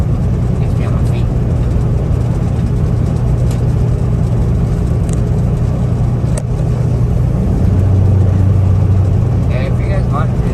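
A truck's engine drones steadily from inside the cab while on the road, a continuous low rumble with road noise that holds at an even level throughout, with no talking.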